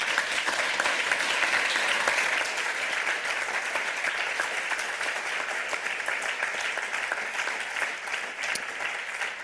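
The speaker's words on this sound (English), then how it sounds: "Give everybody a huge round of applause." Sustained audience applause fills the hall at the close of the 28c3 lightning talks, a dense, steady wash of many hands clapping at near-constant loudness for the full length.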